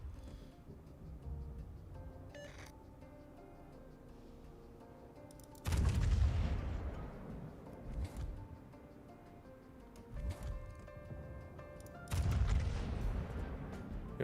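Warship naval guns firing in the World of Warships video game, heard as a few heavy booming salvos spaced several seconds apart, each with a low rumbling tail over a steady background game hum, no talk.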